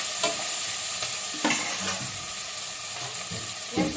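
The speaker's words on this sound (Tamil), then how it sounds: "இப்போ தக்காளியை போட்டாச்சு." Tomatoes sizzle steadily in a pan for vegetable biryani while a spoon stirs them, with about four distinct scraping strokes over the constant frying hiss.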